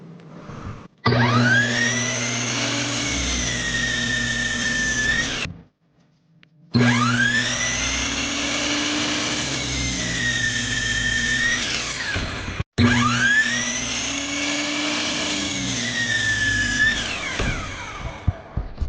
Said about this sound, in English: I'm just gonna mark a few of these, cut them with a miter saw